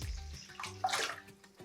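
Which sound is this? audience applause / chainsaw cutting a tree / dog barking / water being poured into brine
water being poured into brine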